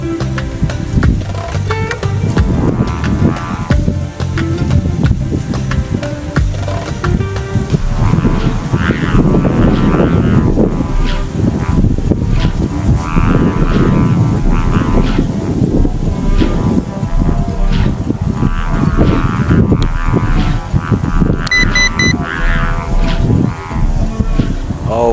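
An MJX B18 Pro drone flies in strong wind, its motor drone masked by loud, steady wind buffeting the microphone with low-frequency rumble throughout, fluctuating gusts, and no voices.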